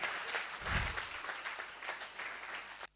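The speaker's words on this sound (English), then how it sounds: "Let's give our former Vice Chancellor another round of applause." Seminar audience at a university research office event applauds with a steady, dense wash of clapping that holds for about three seconds and then cuts off abruptly.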